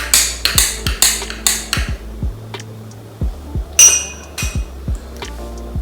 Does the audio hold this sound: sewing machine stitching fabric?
no